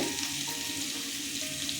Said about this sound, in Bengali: আলুটা ভাজা হতে হতে